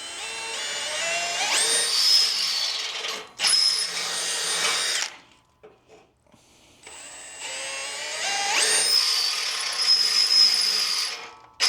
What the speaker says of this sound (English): Helps the drill bit not walk around on you.